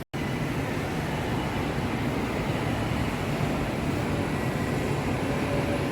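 A Jakarta LRT train pulls into Velodrome Rawamangun station in East Jakarta, making a steady, broad rushing rumble that stays loud and even throughout, with no talking.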